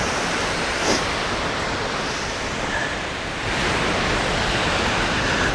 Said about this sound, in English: I'm coming up on the waterfall.